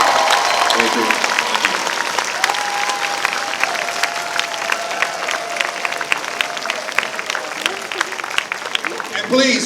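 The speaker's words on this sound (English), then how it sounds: "So let's give it a round of applause for these guys, ladies and gentlemen." A fan convention crowd applauds loudly, dense sustained clapping with sharp individual claps and a faint tone running under it, and a brief voice at the end.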